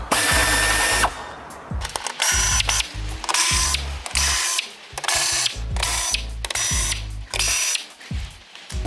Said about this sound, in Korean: 공구를 사용하지? 에어 공구를?